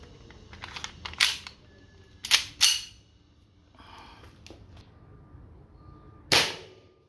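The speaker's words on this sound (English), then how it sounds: "next up, also with plastic BBs, but with CO2, with my Colt" Colt 1911 CO2 airsoft pistol firing plastic BBs: four or five sharp, close pops spread unevenly over several seconds, with small clicks and target impacts in between.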